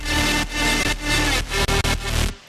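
Dense, buzzy synthesizer notes play in quick succession, each gliding briefly into the next, loud and bright with a few abrupt cutoffs.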